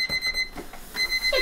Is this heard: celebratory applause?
no